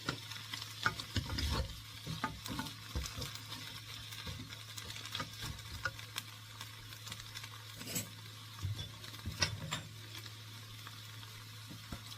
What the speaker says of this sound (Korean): 볶아줍니다